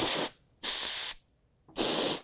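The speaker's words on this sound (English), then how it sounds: "you never want to lean the can when you activate the spray" Canned air spray can with a freon propellant, sprayed on a sewing machine during maintenance in three loud hissing bursts: a short one, a longer middle blast and a final burst, with silent gaps between them.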